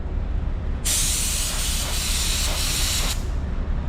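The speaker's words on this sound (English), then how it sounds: "that sprays out pretty good so far, pretty wet, pretty even" A budget primer spray gun with a 2.0 nozzle blasts a loud, steady hiss for about two seconds, starting and stopping abruptly over a constant low background hum.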